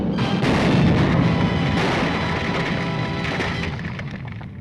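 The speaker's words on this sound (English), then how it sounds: "That explosion will cause an intense investigation." A huge explosion from an old Republic movie serial booms and roars, a loud, dense blast that rumbles on and slowly fades as debris crackles.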